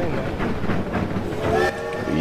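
Train rolling along in the Fistful of Frags video game, a continuous rumbling clatter with a brief whistle-like tone near the end, loud and close.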